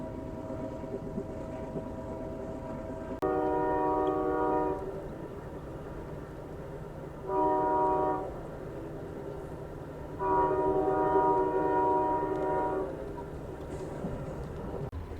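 Train horn blasting in three long, loud tones over the steady rumble of rolling rail cars during a 13-hour train ride, with pauses between the blasts.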